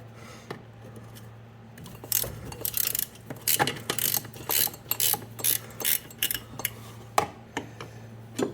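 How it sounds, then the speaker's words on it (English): A ratchet loosens brake fittings on a 1986 Toyota Tercel during an MR2 brake upgrade: repeated close bursts of rapid metallic clicking in short strokes, with brief pauses between them and no talking. "Might need a wrench for or ratchet for this one right back here."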